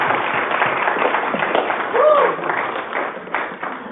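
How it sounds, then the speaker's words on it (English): A roomful of people applauds at a public hearing on nuclear awareness, with dense, steady clapping throughout and a few voices mixed in. "Give him a round of applause."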